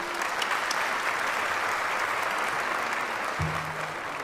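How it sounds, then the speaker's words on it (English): Steady, dense applause from a crowd of over 1,100 at a Virginia Beach State of the City address, loud and continuous throughout. "Let's give him a round of applause as well."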